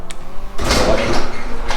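A garage door driven by a Harley Davidson-themed opener starts up after a click, giving a steady broadband rumble and whir that continues to the end, moderately loud and close, with no talking.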